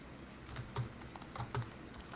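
A message being typed on a computer keyboard: a few soft, uneven key clicks and taps, close by and quiet, with no voices.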